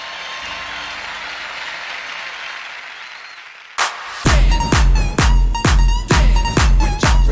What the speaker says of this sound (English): Ladies and gentlemen, please put your hands together and cheer on all the girls who participated in this